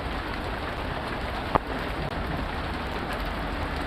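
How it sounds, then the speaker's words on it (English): Steady heavy rain pours down in a constant hiss, with a brief sharp crack of thunder near the middle rising over the downpour. "That was thunder, like, what?"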